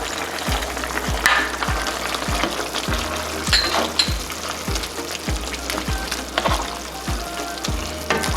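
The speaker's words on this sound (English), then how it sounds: "Make sure to stir that around." Pork, carrots and raisins sizzle steadily in a hot pan, with regular rhythmic scrapes of a utensil stirring them every half second or so, close and fairly loud, no talking.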